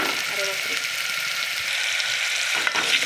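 Ridge gourd stir-fry with turmeric going in, a steady bright sizzle of frying filling the whole stretch, with a faint brief clink near the end.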